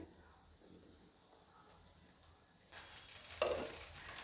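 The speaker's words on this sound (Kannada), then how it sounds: "ಸ್ವಲ್ಪ ಎಣ್ಣೆ ಹಾಕ್ತಾಯಿದ್ದೀನಿ ಮೆಂತ್ಯ ದೋಸೆಗೆ" Oil poured onto a hot pan with methi (fenugreek) dosa batter breaks into a loud, steady sizzle about partway through, following a quieter stretch of faint hiss.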